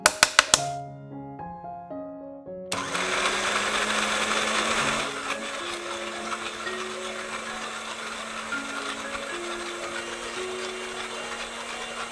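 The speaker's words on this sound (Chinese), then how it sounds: "继续搅打至泥状" A kitchen blender purees ingredients for a vegetarian rendang dish into a paste, starting after a few plucked musical notes and then whirring loudly and steadily under soft background music for most of the stretch.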